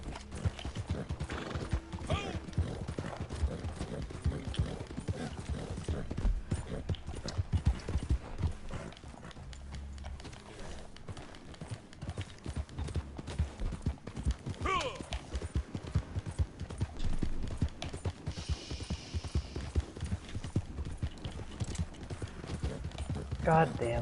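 Horse hooves clip-clop steadily in Red Dead Online, a continuous trotting rhythm with occasional whinnies, set against game ambience and some background voices.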